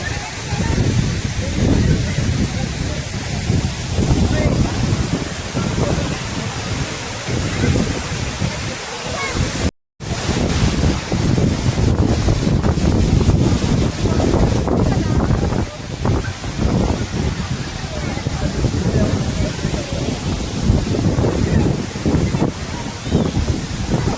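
Penchalakona waterfall rushes in a continuous loud roar of falling water after the rains have eased, mixed with wind buffeting the microphone, with a brief cut near the middle and a person talking over it.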